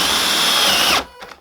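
A power drill with a brad point bit bores steadily into wood for about a second at a loud, close, even whine, then spins down and stops, leaving a couple of faint knocks.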